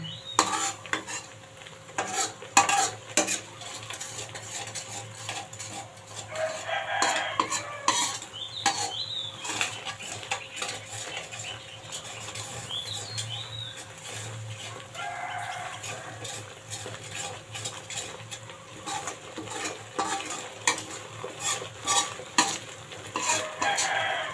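Utensil stirs and scrapes in a pan as Thai curry paste is stir-fried with coconut milk for a tilapia and cha plu leaf curry, with a steady sizzle underneath and repeated clinks throughout, fairly close and without talk.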